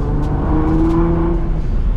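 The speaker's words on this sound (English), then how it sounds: "I want to drive the car around with the new steering wheel" Nissan R35 GTR engine droning steadily from inside the cabin, a loud continuous low rumble with a rising whine as the car drives and accelerates, no talking.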